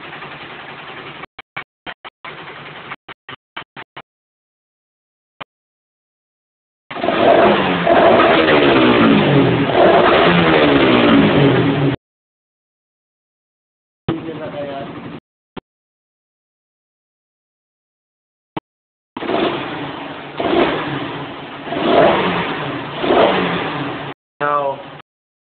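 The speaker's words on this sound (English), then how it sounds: "Try to notice the engine's noise in the background." A car engine fitted with a spark plug enhancer and a smaller dry cell rumbles close by in long stretches of idling and revving, separated by abrupt silent gaps and brief clicks.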